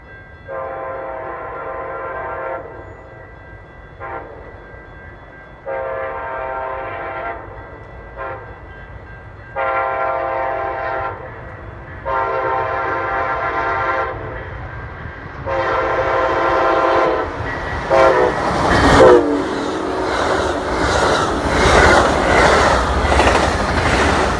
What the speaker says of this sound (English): Amtrak City of New Orleans train 58 approaching Manteno.